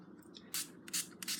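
Three short hissing bursts of liquid sprayed from a bottle while mixing slime with borax, each burst a brief spurt close by over a low background hum, with no talking.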